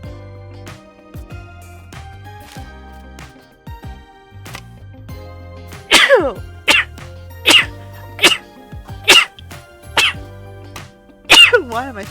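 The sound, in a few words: sneeze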